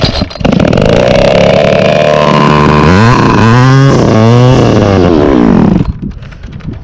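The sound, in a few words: small gas engine of yard tool running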